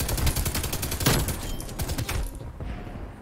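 Suppressive LMG fire in Call of Duty Cold War: loud, rapid bursts of machine-gun shots crackle close by, then the firing breaks off and fades near the end.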